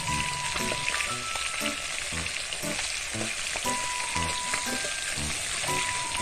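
Ripe snakehead fish fries in hot oil in a pan, a steady dense sizzle filling the whole stretch with occasional soft pops and a few faint tonal clinks of utensils, close and continuous.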